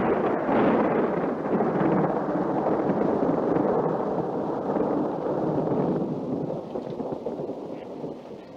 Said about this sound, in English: I've always been afraid of thunder and lightning since I was a little girl.